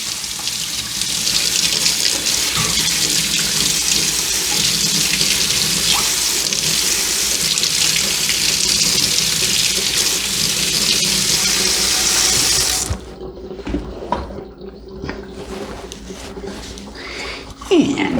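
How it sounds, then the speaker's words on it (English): A kitchen tap runs steadily as a utensil is rinsed beneath it, a loud continuous hiss of water that stops after about thirteen seconds, followed by quieter handling clatter. "I'm going to give it a rinse"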